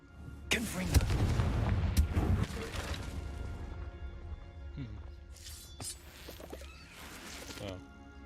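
In Hogwarts Legacy, the Confringo fire spell explodes as a cluster of sharp booms and crackling bursts, loudest early on and then trailing into scattered game effects, with a voice heard at times.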